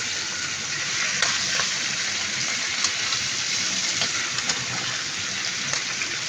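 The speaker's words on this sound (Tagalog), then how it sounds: "Tapos, ihalo na naman natin ulit." Pork adobo with plenty of garlic and black pepper simmers and sizzles in a pot as it is stirred, a steady close hiss with occasional light clinks and no talk.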